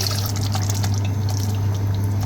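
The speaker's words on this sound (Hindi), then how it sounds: "अब मैं इसमें डालूंगा पानी।" Water poured into a pan of potato egg curry masala, a steady close splashing pour running the whole time over a low kitchen hum.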